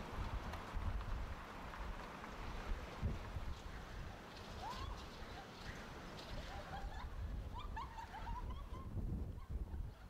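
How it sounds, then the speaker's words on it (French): Wind gusting outdoors, apparently by water, with a steady rushing roar and low buffeting on the microphone throughout, plus faint chirping bird-like calls in the second half. "Ça, c'est le vent."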